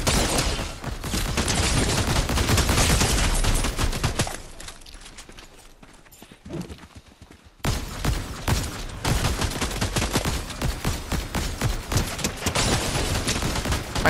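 Rapid turret fire in the Fortnite video game crackles as dense, loud bursts, with a brief lull midway before the shooting picks up again and keeps going steadily.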